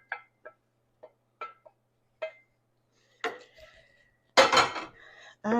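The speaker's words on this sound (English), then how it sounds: "I'm just going to stir that all together" A spoon scrapes and clinks against a pot while Texas hash is stirred, a few short separate clacks followed by louder, denser scraping near the end.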